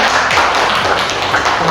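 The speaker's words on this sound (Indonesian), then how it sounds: "Tepuk tangan dulu untuk kalian ya." Applause in a classroom during a physics microteaching session at a university: dense, steady clapping from a group, loud and close, sustained throughout with a few faint voices mixed in.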